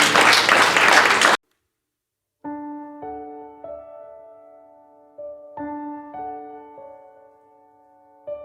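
A church congregation bursts into applause for about a second, a dense wash of clapping that cuts off sharply and gives way, after a short silence, to sustained keyboard or organ notes played alone.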